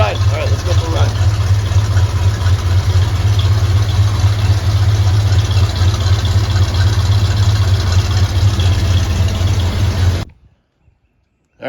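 An old farm truck's engine runs steadily during a ride, a loud low droning rumble with road and cabin noise, continuous until it cuts out near the end.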